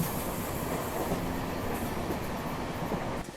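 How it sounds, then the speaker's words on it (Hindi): Rajdhani Express on Indian Railways rolling along the tracks as its rear locomotive pushes to build speed; a loud, steady rumble of wheels and carriages fills the whole stretch, with no voices. "तो अब ट्रेन में पीछे लगा लोकोमोटिव ट्रेन को सपोर्ट करने का काम छोड़ करके ट्रेन की गति बढ़ाने के काम में लग चुका है।"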